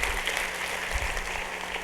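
Congregation applause at an evangelical church service: a full, steady roar of many hands clapping together, loud and continuous, with no gaps.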